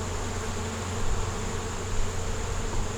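Honey bees at a hive, clustered over winter on dry sugar, give off a soft, continuous low hum that stays even throughout, with no voices.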